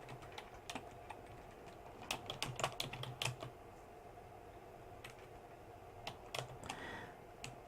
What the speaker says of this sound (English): I'll type home decor